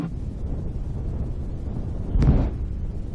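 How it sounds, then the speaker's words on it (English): Darkstar hypersonic jet in Microsoft Flight Simulator, flying at roughly three times the speed of sound, gives off a steady low exhaust roar with a short, louder surge near the end. "that sound you hear is the engine exhaust"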